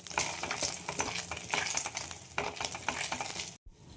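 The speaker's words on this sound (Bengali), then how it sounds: "এবার আমি কিছু বড়ি ভেজে দেব।" Bori, sun-dried lentil dumplings, frying in hot oil for a Bengali parshe fish curry, with a steady loud sizzle and crackle and some stirring clinks, cutting out abruptly near the end.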